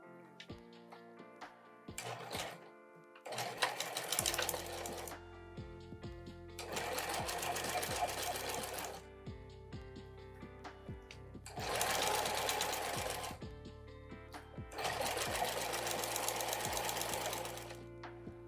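A sewing machine stitches a tote bag lining shut in several loud, close bursts of rapid mechanical whirring, each run a few seconds long, separated by brief pauses and quieter handling.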